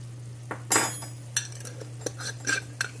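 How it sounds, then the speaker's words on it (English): A spoon stirs paprika and oregano together in a pot for homemade chili, giving a handful of sharp metallic clinks and scrapes up close over a low steady hum, with no speech. "And we're just going to mix this all together."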